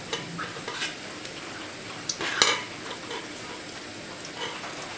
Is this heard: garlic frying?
yes